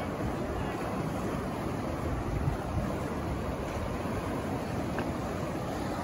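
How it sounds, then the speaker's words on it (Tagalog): Takakkaw Falls in British Columbia pours with a steady broadband roar of rushing white water, fairly faint and constant with no breaks, picked up from a distance with some wind noise on the microphone. "Tapos, focus na natin konti yung waterfalls."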